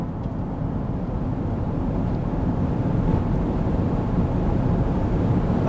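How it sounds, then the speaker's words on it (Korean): A 918-horsepower Lotus Eletre R electric SUV accelerates in sport mode on a racing circuit, giving a loud, steady, low rumble of road and wind noise inside the cabin with no talking. "자, 스포츠 모드에서 가속."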